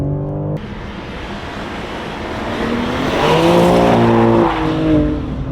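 A BMW M3 Competition in rear-wheel drive accelerates hard, the engine note climbing through revs with a loud, close roar and possible tire noise, running alone without talk.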